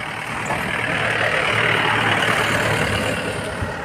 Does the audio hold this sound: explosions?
no